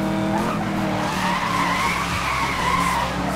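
In the Need For Speed Most Wanted video game, a car drifts through a corner, its tires squealing in a long, loud skid over a roaring engine.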